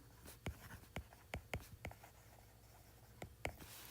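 Pen strokes scratch out a rotational-motion equation, covering torque from friction on a coin, in a string of quiet, separate taps and scrapes against a soft background hiss with no talk.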